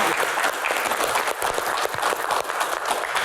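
A studio audience at a comedy Q&A show applauds with loud, dense, continuous clapping that fills the whole moment without pause.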